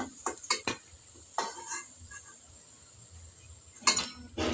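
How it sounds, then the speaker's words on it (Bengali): Cabbage pakoras sizzle in hot oil in a steady hiss, broken by a few sharp clinks and scrapes of a utensil against the pan near the start and again toward the end. "এক এক করে সবগুলো আমি এখানে ভেজে নিব পাকোড়া"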